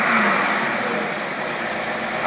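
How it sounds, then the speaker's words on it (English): Car engine running on an Edelbrock carburetor, a loud steady close-up roar with a brief swell at the end, no talk over it. "I just opened these screws up a little bit and got it to running."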